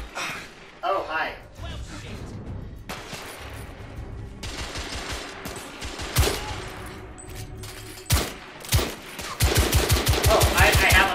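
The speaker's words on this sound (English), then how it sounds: "Oh, I have an automatic rifle." Rapid automatic rifle fire from The Order 1886, a steampunk shooter game, rattles in loud bursts, densest near the end, among scattered single shots and impacts over a low game soundscape.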